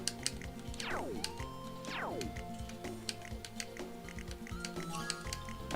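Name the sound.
typing sound from the video game Hot Shots Golf 3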